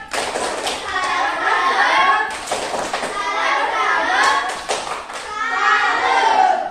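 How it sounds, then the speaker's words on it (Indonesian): Classroom of pupils clapping hands together in a continuous burst, with children's voices and chatter mixed throughout. "Terima kasih untuk kelompok media elektronik, beri tepuk tangan."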